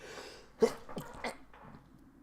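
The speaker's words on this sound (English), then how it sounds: "So I'm just going to sneeze 1 second." A single sharp sneeze indoors, close to the microphone, followed by a breathy sniff and quiet exhale.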